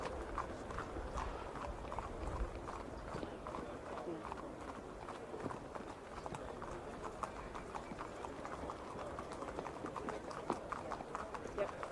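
Racehorse hooves clip-clop steadily throughout at an equestrian and horse-racing club, a continuous rhythmic patter of many hoofbeats under a commentator talking.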